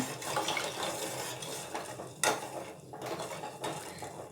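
A spoon scrapes and clinks against a metal pot of jaggery and ragi dissolving, in irregular strokes, with a soft bubbling, watery background throughout.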